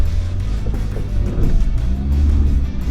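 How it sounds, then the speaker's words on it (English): A Kia Tasman ute drives off-road in four-wheel-drive auto mode, a low steady engine rumble with slight rises in revs, heard close with no talking. "So I'm going to put it straight into 4 auto and see how we go on 4 auto."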